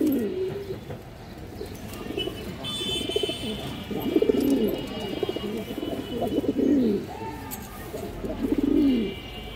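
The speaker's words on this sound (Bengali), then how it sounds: "এই দেখেন আফসান বাঘা পেয়ার, খুবই সুন্দর কবুতর দর্শক" A pair of Afsan Bagha pigeons coos in repeated rolling bursts, near and fairly loud, with short pauses between phrases and a faint high tone running behind.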